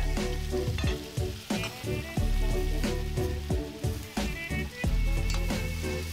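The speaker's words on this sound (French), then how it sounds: "on va le mélanger avec du beurre pour arroser la bête" Meat sizzling loudly in a cast-iron pot while butter is spooned over it, a dense crackling fry broken by rhythmic basting splashes and scrapes, close up with no voices.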